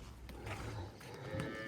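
A cow at a cattle farm moos in low, drawn-out calls, faint and somewhat distant, under a light hum of farmyard background with no talking.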